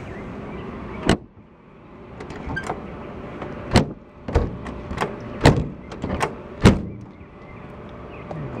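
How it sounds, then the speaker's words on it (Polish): Several solid thumps of a 1958 VW Beetle door shutting, spaced irregularly over a low rumbling background, close by and fairly loud. "drzwi się zamykają tak jak się zamykały w 58 roku"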